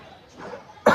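A single sharp cough from someone sick with fever and a cold bursts out near and loud at the very end, after a stretch of quiet low murmuring.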